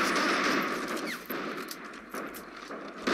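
Gunfire in the World War II strategy game Men of War Assault Squad 2, rapid bursts of automatic weapon fire crackling in quick succession, with a few sharper isolated shots standing out near the middle and end.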